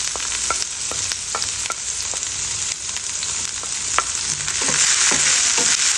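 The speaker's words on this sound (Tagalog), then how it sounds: "maglagay tayo ng konting oil lamang. Magisa na tayo." Garlic and onion sautéing in a little oil in a pan, a loud constant sizzle with scraping stirs at intervals, the frying swelling brighter toward the end, close up with no voices.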